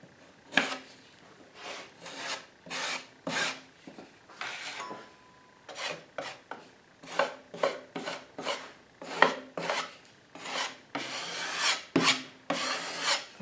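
Repeated rough scraping strokes of a metal spackling knife spreading spackle across drywall, close and fairly loud, in irregular bursts with short pauses between.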